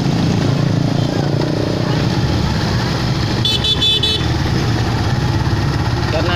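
Dense morning traffic jams a busy market street in Makassar just before Lebaran, with motorcycles and cars rumbling steadily close by. Around the midpoint, a short burst of horn honks cuts through, and a voice speaks over the din.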